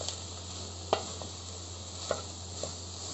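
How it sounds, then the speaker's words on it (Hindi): Onions cook gently in a pan with a quiet, continuous sizzle, broken by three light knocks of a utensil. "अब मैं इसमें प्याज डालने लगी हूँ। अब इसको जरा प्याज डाल के जरा सॉफ्ट करनी है"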